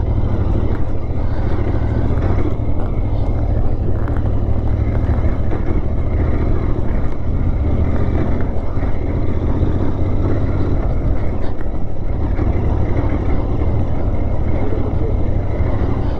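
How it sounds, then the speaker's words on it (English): Royal Enfield Interceptor 650 motorcycle ridden off-road on soft terrain, a continuous loud engine drone mixed with heavy wind rush across the microphone, steady throughout. "I want this to be pure off-roading and pure soft off-roading, so you can get a clear perspective of how the bike performs."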